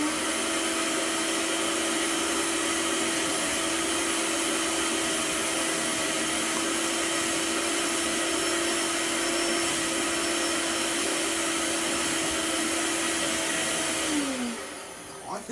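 A Vax ONEPWR Spotless Go cordless carpet spot cleaner runs with a steady, loud motor whine that holds constant, then winds down toward the end.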